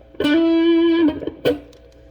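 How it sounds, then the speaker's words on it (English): Electric guitar played through a Marshall Valvestate Model 8100 amp cranked all the way up for crunch distortion, one loud sustained bent note ringing about a second, then a sharp second pick attack. "when we crank it all the way up, we start to get some of that crunch"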